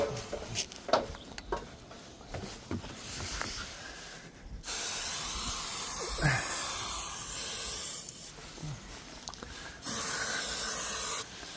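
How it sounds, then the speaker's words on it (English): Aerosol insect repellent spray hissing in long steady bursts with brief pauses, close by, onto ropes of a pontoon boat, after some scattered handling clatter. "I'm going to spray these ropes. Keep the spiders off the boat."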